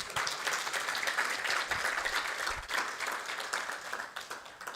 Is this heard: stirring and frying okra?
no